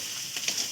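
Noodles fry and are stirred in a pan, giving a brief, steady hiss of sizzling oil with faint scraping.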